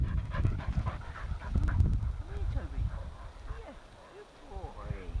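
A springer spaniel pants in quick, breathy rhythm outdoors on a Sunday morning, moderately close, while people talk nearby.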